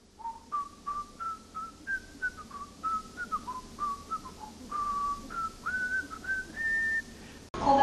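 A person whistles a melodic tune imitating a sound, a steady series of clear, near notes stepping up and down in pitch, alone without talk.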